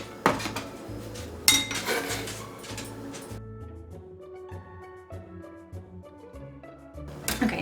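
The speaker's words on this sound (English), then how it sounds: "I'm going to take it all and put it in a bowl so that it's not in my way" Chopped garlic scraped into a bowl in a home kitchen while making borscht, with clinks and knocks of a knife and dish, a bright clatter near the start, then quieter tonal ringing and soft tapping, close by with no talking.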